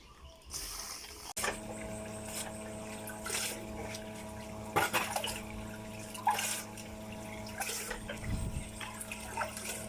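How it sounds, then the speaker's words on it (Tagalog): Water runs and splashes steadily from a submersible pump as it pulls muddy water out of a well during cleaning, with intermittent drips and louder gushes over a low continuous hum. "ilalagay ko na yung submer para yung putik na sumabay sa tubig ay maisipsip na sa submer na ilagay ko dito"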